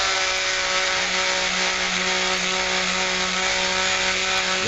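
Polishing wheel spinning as it buffs an ammunition feed ramp with polishing compound, a continuous close whir with a steady motor hum and a light rubbing rasp throughout.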